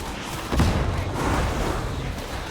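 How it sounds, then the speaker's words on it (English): A grenade blast in the Darktide video game, a heavy, booming burst followed by a rumbling tail and continued battle din. "Have a grenade, heretics!"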